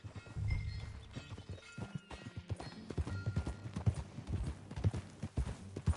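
Horse hooves pound in a quick, rhythmic gallop in Red Dead Redemption 2, loud and close, with the beats continuing steadily from start to finish.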